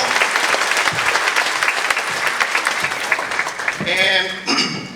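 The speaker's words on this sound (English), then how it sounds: "If we could give them a round of applause." Commencement audience at Pamlico Community College applauding the Board of Trustees, sustained close clapping from a crowd that fades out toward the end as a speaker begins talking.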